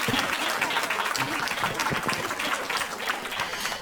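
Audience applause at a Hindi kavi sammelan poetry gathering, a dense, steady wash of many clapping hands that stays loud throughout before easing slightly at the end.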